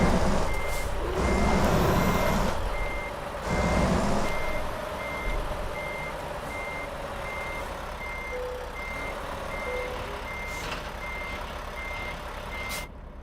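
A truck in American Truck Simulator sounds its reversing beeper in a steady, evenly spaced series over engine rumble, with louder bursts of engine noise early on.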